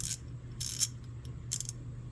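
A DuraTech low-profile ratchet from a three-piece set gives three short bursts of crisp, close clicking, separated by brief pauses.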